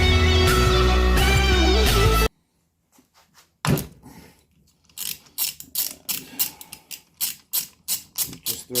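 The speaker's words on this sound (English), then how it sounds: "Just thread this, keep going, and the flywheel will come off." A flywheel puller being threaded onto the flywheel of a Honda CRF50 dirt bike gives rapid ratcheting clicks and metallic tool knocks, starting loud and close after a burst of background music, then a brief quiet and a dense run of clicks.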